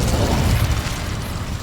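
Incendio fire spell from Hogwarts Legacy, a loud close whooshing burst of flame with a deep rumble that swells and then slowly fades.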